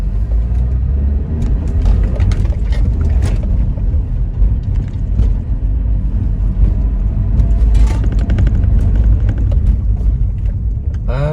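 Rover car with a K-Series engine pulling away on a brief uphill drive, a loud steady low engine rumble with road noise throughout, no talking.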